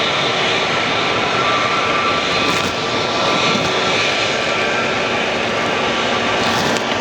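Steady, loud aircraft engine roar of a Southwest airliner droning overhead near FLL airport without a break; no voices.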